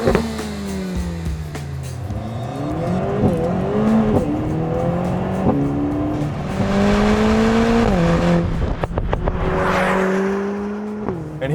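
A Lotus Emira Turbo sports car driving, its engine note climbing repeatedly through the gears with distinct shift drops, loud and close from inside, with no one speaking.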